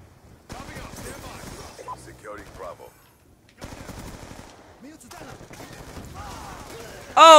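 Rapid automatic bursts from a sentry gun in Black Ops 2 arrive in several close, staccato volleys separated by short gaps, with game sounds and talk mixed in.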